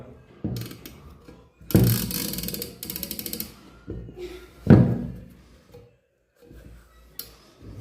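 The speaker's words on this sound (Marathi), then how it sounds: "ह्या दांडीच्या मदतीनं हे जातं पुन्हा फिरवायचं आहे आपल्याला" A flour mill's stone being turned back into place with a rod, giving irregular clunks, scrapes and ratcheting knocks, close and moderately loud, with brief pauses between efforts.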